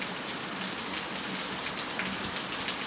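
Heavy rain pours steadily in the Paraíba backlands, a dense, continuous hiss of water striking surfaces up close with no pauses.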